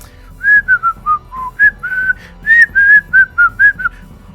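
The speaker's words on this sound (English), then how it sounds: "On is waiting, and he is twiddling his thumbs and whistling." A person whistles alone while waiting, a clear close melody of about a dozen short and held notes rising and falling in an idle, unhurried rhythm.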